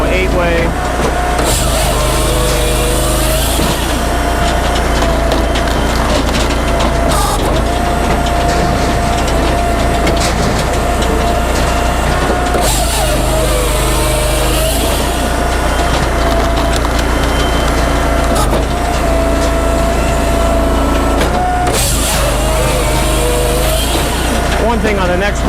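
A Brute Force 16-24 firewood processor with an extended deck drives logs through a 6-way wedge, a loud steady hydraulic engine drone with repeated cycles of wood cracking and splitting, while someone talks over it.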